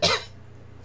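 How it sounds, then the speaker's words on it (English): A single short, harsh cough from a person streaming a live chat, close to the microphone, with a faint steady hum continuing afterwards. "I just have like a still residual cough"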